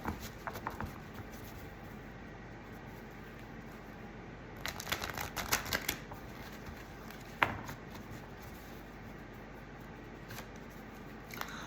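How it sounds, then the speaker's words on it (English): Cards riffle and patter repeatedly, with a couple of louder crisp bursts of shuffling in the middle; quiet background, no voices. "really give these cards a shuffle."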